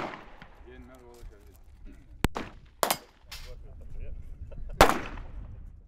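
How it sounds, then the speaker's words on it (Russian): Several sharp, loud gunshots from weapons of various calibers fired at a target, spaced irregularly over a few seconds, with someone talking underneath. "Несколько выстрелов, и вражеская мишень повержена."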